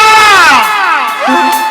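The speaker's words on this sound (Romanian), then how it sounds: "Hai toată lumea, aplauze pentru Cinerică și Mireasa!" A party crowd at a birthday celebration for a bride and groom erupts in loud, close cheering and whooping, with high sustained shouts and rising voices that carry straight through.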